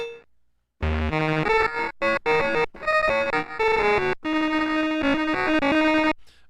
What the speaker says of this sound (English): here's Bit Crusher